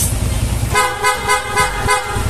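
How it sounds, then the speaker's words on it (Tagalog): PIA horn fitted to a rewired Sniper 150 motorcycle, sounding in several short, loud honks after a brief engine lead-in, close to the microphone. "Then, PIA horn."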